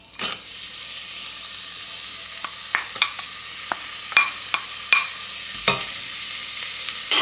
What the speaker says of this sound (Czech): Cibuli si orestujeme hezky do zlatová